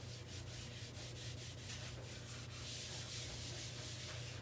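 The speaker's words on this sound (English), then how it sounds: "I'll be using my little homemade scrubby that I made. And just give it a scrub." Steady, close rubbing and scrubbing of a sink drain with a small homemade scrubby, a continuous gritty hiss with faint rhythmic strokes throughout, fairly quiet and without talk.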